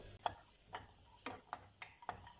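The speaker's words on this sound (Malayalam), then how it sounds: "ഇപ്പോൾ റേസിൻസും ഫ്രൈ ആയി വന്നിട്ടുണ്ട്." Cashews and raisins fry in ghee in a pan with a faint, steady sizzle, broken by a few soft taps of a spoon against the pan at an even pace.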